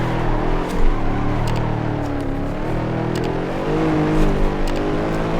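A car drifts in a racing simulator game replay, the engine revving up and down in loud, wavering sweeps with short scrubbing bursts of tire noise, no talking over it.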